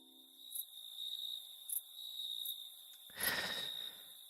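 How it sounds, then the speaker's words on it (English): Crickets chirp in a quiet nighttime scene of the video game Suck Up!, a steady high insect trill running throughout, with a brief soft breathy noise near the end. "Listen to those crickets"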